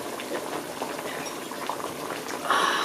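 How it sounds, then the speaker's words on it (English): Spicy Sichuan hot pot broth at a rolling boil, close and continuous bubbling with dense liquid churning, rising slightly louder and brighter in the final moments. "That rolling boil."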